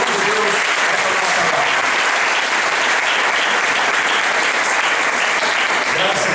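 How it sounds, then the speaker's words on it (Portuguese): A church congregation claps together in sustained, dense applause, loud and close, with voices mixed into the crowd noise throughout. "Dá um aplauso ao Senhor"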